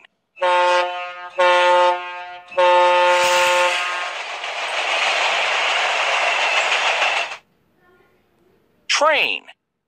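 Cartoon train sound effect for a children's transportation lesson: two loud horn blasts, then a sustained rushing rumble for several seconds that cuts off, followed by a short chirpy voice.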